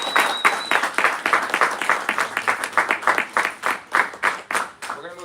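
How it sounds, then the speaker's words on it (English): A conference audience claps for a speaker, a steady patter of many hands that swells and falls in loose waves before fading near the end, with voices cutting in briefly. "let's give Eddie another round of applause"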